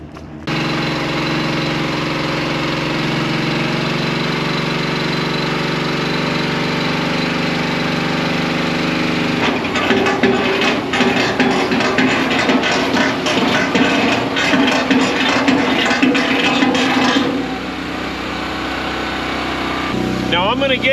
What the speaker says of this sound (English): I'm going to fire up the engine and we'll show you some of the cool stuff we can do with this thing.